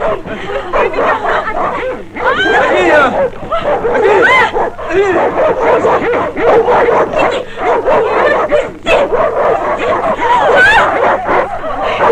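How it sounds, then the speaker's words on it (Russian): Several dogs bark, yip and whimper loudly and close in a 1959 Turkmen film scene, a dense, continuous chorus of rapid barks with people shouting over them. "пускай собак"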